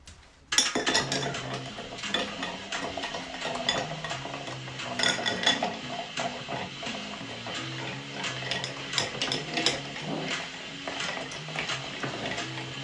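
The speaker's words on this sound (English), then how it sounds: "And let's give this a little stir." A spoon stirring ice in a mixing glass for a Scotch cocktail, a close, steady run of clinks and rattles that keeps going without pause, no talking.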